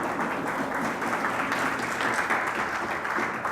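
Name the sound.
church congregation applause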